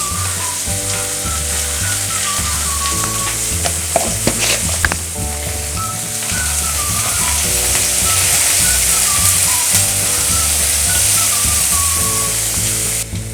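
Cabbage sautés in a pan for a Kerala cabbage mezhukkupuratti, a steady loud sizzle and crackle of frying with occasional stirring scrapes, while background music plays underneath.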